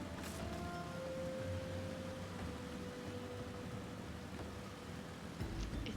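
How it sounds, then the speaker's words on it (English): Heavy rain pours in Final Fantasy XIV at an Amalj'aa encampment near Sandgate, a dense, steady hiss of downpour that runs unbroken and fairly loud throughout with no voices. "It's raining so hard, so hard, so hard."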